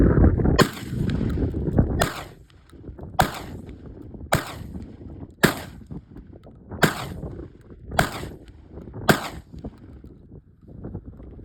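An Aselkon S4 air rifle fires eight sharp, close shots at roughly one-second intervals, each a crisp crack against a low background hum, with no voices.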